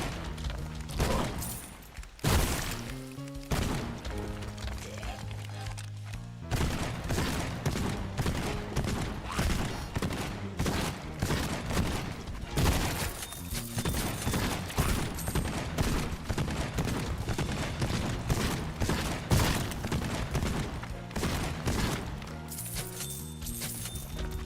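Rapid, continuous gunfire from a level 3 smart gun in the video game Borderlands 2, a dense, loud stream of shots and impacts with game music underneath, sustained throughout with no talking.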